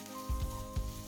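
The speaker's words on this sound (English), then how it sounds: "So you add your onions too." Onions sautéing in a little oil in a frying pan during samosa and spring roll preparation, a soft, steady sizzle with a couple of low stirring thumps, faint and close.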